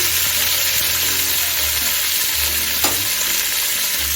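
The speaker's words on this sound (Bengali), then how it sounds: "পেঁয়াজটা আমি তিন মিনিটের মতো ভেজে নেব" Chopped onion fries in hot mustard oil with bay leaves. A loud, dense, close-up sizzle runs without a break, and scraping stirs are audible underneath.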